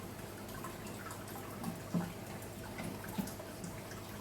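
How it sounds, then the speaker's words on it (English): Water trickles steadily through the NFT channels of an aquarium aquaponics system, with a constant low flow and a few faint drips rising above it. No one speaks. "I can push these in now and we'll get the water flowing through."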